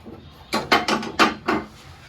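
A stove control knob turned from right to left down to a simmer setting, giving four or five quick close clicks in a row, clear and alone in a quiet kitchen.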